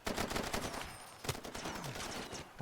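Gunfire hammers at a vehicle in the video game Far Cry 2, a dense burst of rapid automatic shots rattling close and loud and then a few sharper single cracks.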